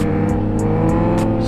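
A Kawasaki Z900 motorcycle roars at high revs during a standing wheelie, a loud sustained engine howl with no talk over it.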